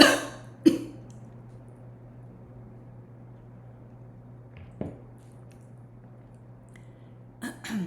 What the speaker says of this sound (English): Hold on one second, I'm gonna cough.